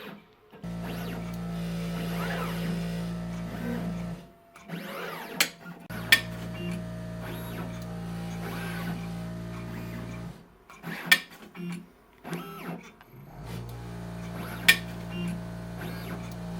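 Small pick-and-place machine seating tiny 0402 resistors and capacitors onto a circuit board, a steady mechanical whir and hum with a pulsing low drone, brief pauses and scattered sharp clicks and taps from the moving head.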